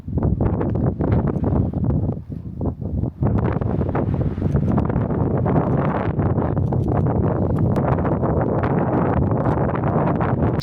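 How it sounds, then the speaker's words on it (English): Gusty wind buffets a campsite on a cold, rainy overlanding trip through Utah and Arizona, loud roaring rumbles and flaps swelling and easing without pause, close to the microphone with no talk. "So it's cold and rainy and windy again."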